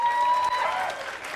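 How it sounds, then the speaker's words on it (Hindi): Loud applause bursts out for a student who has cleared an exam, a dense steady clapping from a gathered group that carries through the whole moment before easing slightly at the end, with a tone ringing faintly underneath. "तेरा एग्जाम क्लियर है ताली बजाओ जोरदार"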